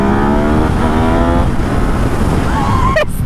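Yamaha motorcycle, compared against an XSR900, accelerating hard during a road ride, its engine note climbing through the revs loud and close, with steady wind rush over it.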